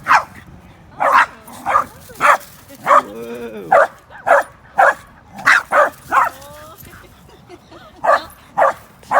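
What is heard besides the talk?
dogs barking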